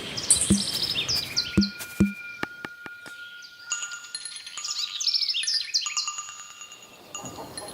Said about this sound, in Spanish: Aves, todo lo que eso significa.